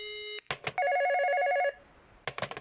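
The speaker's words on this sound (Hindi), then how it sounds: "लगता है दूसरी कॉल आ रही है।" A telephone rings with an incoming second call: a bright electronic tone sounds in steady repeated bursts, loud and close, with short clattering noises before and after.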